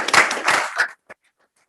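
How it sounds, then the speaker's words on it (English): A short round of applause at a school board meeting: a brisk burst of clapping from the room that dies out after about a second, followed by one last stray clap and then silence. "So can we give them all a round of applause?"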